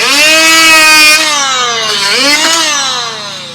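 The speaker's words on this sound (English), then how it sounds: "I love the multi-tool for this" An oscillating multi-tool trims excess wood shims during a sunroom makeover, giving a loud, close, steady high-pitched buzz that dips and shifts as the blade bites into the wood, with no talk over it.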